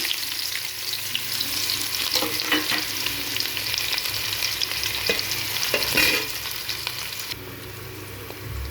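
Onions frying in hot oil with garam masala, cardamom, cloves and shahi jeera for cashew biryani: a loud, continuous close sizzle with scraping and stirring clatter that eases off slightly near the end, with no talking.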